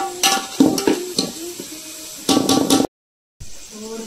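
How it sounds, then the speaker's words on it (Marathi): Onion sautéing in oil in a hot pot for chicken curry over a wood-fired stove, with bursts of stirring and utensil scrapes over a soft sizzle, close by, broken by a brief full silence. "कांदा मस्त परतून घ्यायचा."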